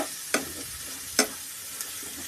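Sliced large onions frying in a pan for an egg roast, a faint soft sizzle throughout with a few sharp stirring scrapes from a spoon against the pan.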